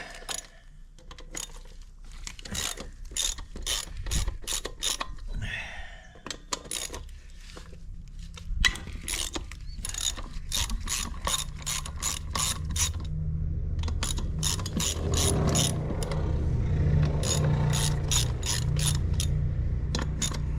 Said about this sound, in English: So guys, use a 12mm socket.